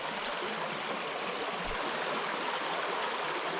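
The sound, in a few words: small river stream flowing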